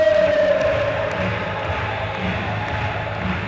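Crowd at the 2014 IFSC Climbing World Championships lead final in Gijón cheering on a Spanish climber, a steady broad roar of voices with a brief whistle-like tone at the start, sustained and moderately loud throughout.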